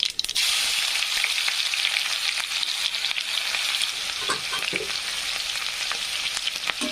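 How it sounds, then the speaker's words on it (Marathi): Onion frying in hot oil with mustard seeds and cumin, a constant close hiss and sizzle with occasional light stirring scrapes, steady throughout and with no voices. "कांदा छान असा फ्राय होऊ द्यायचा आहे आपल्याला"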